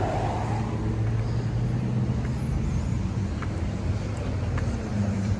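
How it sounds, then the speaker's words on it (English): A car rolls past on the road at the South Carolina Festival of Flowers in Greenwood, a low steady engine and tyre rumble at mid distance that holds throughout, with no voices. "And they got all kind of traffic coming."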